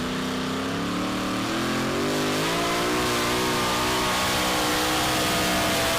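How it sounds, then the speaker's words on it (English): Diesel truck Sicario at an NHRDA World Finals sled pull in Ennis, Texas, its engine roaring loud and steady as the throttle rolls on, pitch climbing gradually and holding a sustained full-power drone. "So as Andy and Sicario get ready to roll into the throttle"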